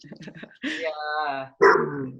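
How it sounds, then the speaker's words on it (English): Small dogs in a home bark and yip near the microphone in a few short, sharp bursts with whining between them, while a person says a brief word. "if you hear my dogs in the background"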